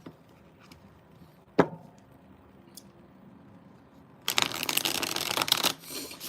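Tarot cards are shuffled by hand in a quiet room, first a few soft flicks and one sharp snap, then a long, loud, dense riffling burst lasting a couple of seconds before easing off.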